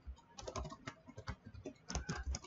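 Quick, uneven bursts of clacking keys as someone types on a computer keyboard, close and fairly quiet, with no speech.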